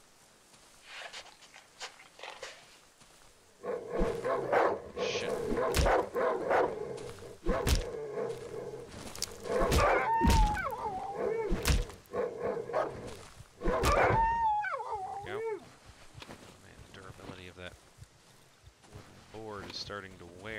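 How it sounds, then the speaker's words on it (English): A dog in the horror survival game Darkwood barks and lets out wavering howls amid in-game noise, with someone talking over it through much of the stretch. "There's my dog."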